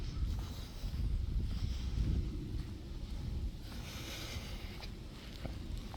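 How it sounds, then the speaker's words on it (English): Wind gusting across an open beach at sunset, a steady low rumble of moving air buffeting the microphone with soft rushing noise throughout, no voices. "there's a little bit of wind"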